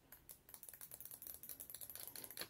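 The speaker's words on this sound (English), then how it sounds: "The only thing that bothers me are up the shoulder buttons up here. I don't know if you can hear it. They're very clacky." The shoulder buttons on an Evercade handheld console are pressed rapidly, making a dense run of sharp, close plastic clacks in an uneven tapping rhythm, with nothing else heard.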